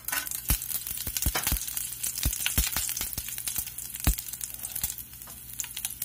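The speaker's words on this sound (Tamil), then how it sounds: "கடுகு பொரிய ஆரம்பிச்சிருச்சு, நம்ம இந்த நேரத்துல கருவேப்பிலையும் வர மிளகாவும் சேர்த்துப்போம்." Mustard seeds, curry leaves and dried chillies crackle and sizzle in hot oil for a kuzhambu tempering, with a steady frying hiss punctuated by sharp popping bursts, close and loud, no voices.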